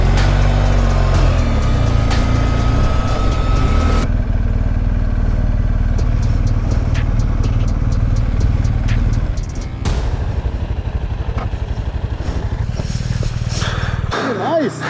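Motorcycle climbing a mountain road above the Sundance ski resort toward Mount Timpanogos, a steady loud engine drone with wind rush throughout that drops out abruptly near the end, with a rider's voice briefly over it.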